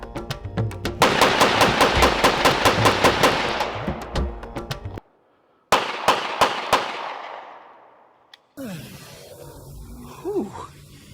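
Rapid rifle fire on a film set, a long burst of sharp closely spaced shots, then a pause and a second shorter volley, followed by voices talking afterward.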